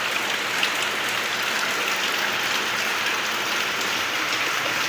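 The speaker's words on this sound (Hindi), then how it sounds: "यहाँ पर हो रही है बारिश" Heavy rain pours down in a dense, unbroken hiss, loud and close, with no talking or other sounds over it.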